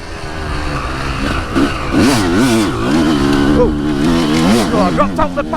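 A two-stroke motocross bike engine revs hard while riding, with a buzzing, rising and falling whine that stays loud and close throughout, mixed with wind rush and a voice shouting.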